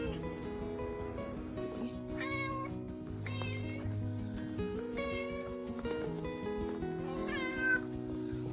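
A rescued female cat meows repeatedly, several short rising and falling meows spaced a second or two apart, heard clearly over steady background music.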